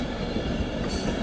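An Avanti West Coast Pendolino pulling away at Primrose Hill: a loud, dense, steady rumble and roar of a passing electric train close by, with no talking.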